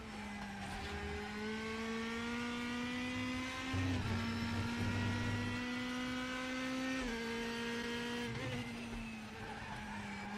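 A race car engine in the RaceRoom racing game with DTM cars howls at high revs, dropping pitch through several quick downshifts with blips and brief tire squeal, loud and continuous with no voices.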